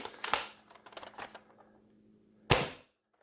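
An Adventure Force Aeon Pro X foam blaster is fired, sharp mechanical snaps and clacks in a quick uneven cluster near the start, then a lull and one more loud crisp shot, up close in a quiet room.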